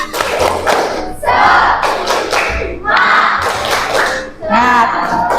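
A school class performs the rhythmic tepuk semangat clapping cheer: bursts of patterned group clapping alternate with loud shouted chants from many young voices, close and energetic in a classroom.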